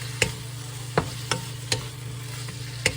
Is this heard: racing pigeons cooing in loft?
no